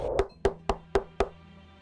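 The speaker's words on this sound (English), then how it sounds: "The knocking grew louder," Five sharp knocks on an apartment door, evenly spaced and close, ringing out loud against an otherwise quiet, still room.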